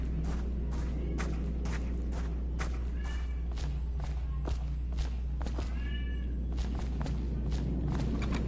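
Riley, a pet kitten, meows several times in a room over a steady low hum, giving short high cries at irregular intervals, a few of them stretched out, mixed with soft thumps.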